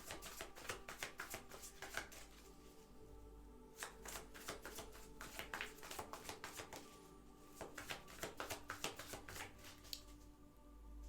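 Tarot cards being shuffled during a reading, a steady run of crisp riffling and snapping bursts that repeat close to the microphone with short pauses between shuffles, and no voices.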